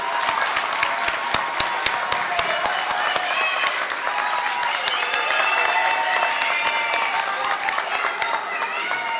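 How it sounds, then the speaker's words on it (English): Loud, brisk applause from the audience at a technician training institute graduation ceremony, dense rapid clapping with some individual claps standing out, continuing steadily for several seconds. "Let's give a round of applause to all of the instructors."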